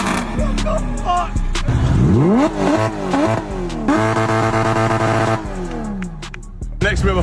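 Several expensive supercars, including a McLaren 570S and a Lamborghini Huracan Performante, rev their engines loudly one after another, with rising and falling harmonic sweeps, sharp blips and deep sustained roars close by.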